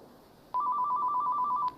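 A telephone rings in a Red vs Blue scene, one loud, close electronic trilling ring with a rapid warble that lasts just over a second, then stops.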